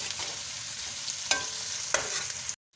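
Onion and garlic fry lightly browning in oil for aloo matar, a continuous close sizzle broken by a couple of spoon scrapes before cutting off abruptly.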